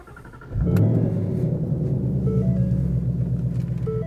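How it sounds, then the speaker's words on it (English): A 2022 Ford Mustang GT Premium with its 5.0-liter V8 cranks and fires up, its deep loud idle rumble holding steady and close after a brief starter whir. "V8 engine roar to life, which makes 460 horsepower and 420 foot-pounds of torque."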